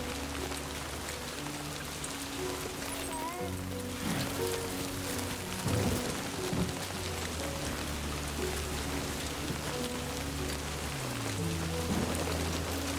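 Steady, heavy rain pours down throughout in the video game Death Stranding 2, a dense hiss of drops on surfaces, with low droning background tones underneath and no talking.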